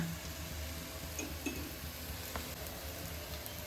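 Rice-flour rotti fries in oil in a pan with a soft, steady sizzle throughout, punctuated by a few faint clinks of utensils.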